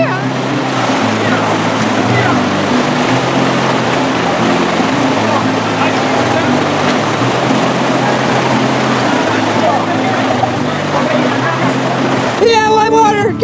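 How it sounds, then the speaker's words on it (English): Whitewater rapids on a river as a boat rides through waves, with a continuous loud rush of churning water and engine-like drone throughout, and excited voices whooping over it. "there's white water out there. You're gonna go through some waves"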